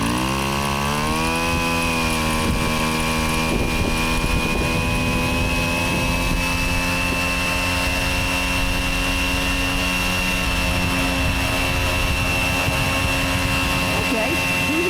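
A moped engine after a CVT upgrade runs nearby, its buzzing two-stroke drone climbing in pitch early on and then holding a steady high whine for the rest of the clip.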